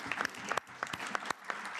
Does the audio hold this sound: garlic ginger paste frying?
no